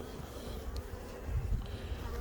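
A few honey bees drone around a hive newly filled by two swarms. The low buzz is steady and close, with a slight rise as a bee passes nearer.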